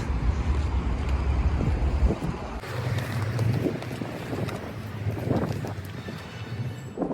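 Steady wind buffets the microphone, producing a continuous low rumble with gusty surges throughout.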